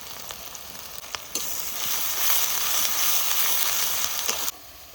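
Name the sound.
onion frying in oil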